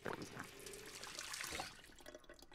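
Water being drunk in a snowy zombie survival game, a continuous liquid trickling and dribbling sound like running water, steady and fairly soft throughout, with no talking.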